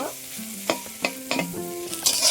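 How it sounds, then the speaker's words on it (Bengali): Malabar spinach and chhana with turmeric stir-fried in a pan, a bright continuous sizzle close up with quick rhythmic scrapes of the spatula, the hiss swelling louder at the end. "এখন এটা আমি ভেজে নেব নাড়াচাড়া করে ভেজে নেব"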